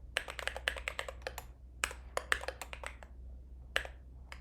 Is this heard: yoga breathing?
no